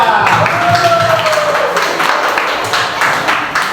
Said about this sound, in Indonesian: Kita beri tepuk tangan untuk kelompok 3.